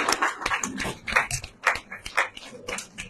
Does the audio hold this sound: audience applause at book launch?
yes